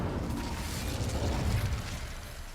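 A fire spell cast in Hogwarts Legacy, heard as a steady, loud low rumbling roar of flames that swells briefly mid-way and then eases, with no voices over it.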